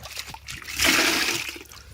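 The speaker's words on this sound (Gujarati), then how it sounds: "તો આપણે આની અંદર પાણી નાખી દઈએ પહેલાં," Water poured into a container of jaggery for dissolving while making jivamrut, a loud splashing gush swelling up midway and tapering off, with no talk over it.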